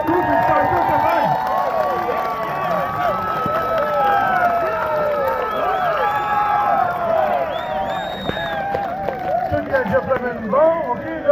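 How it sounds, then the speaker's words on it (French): A crowd at a Quebec baseball awards gathering cheers and applauds, with whoops, lively voices and babble rising over the clapping throughout. "Et une bonne ligne d'applaudissements."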